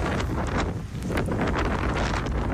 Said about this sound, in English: That's the sound of the Arctic winds blowing through upstate New York.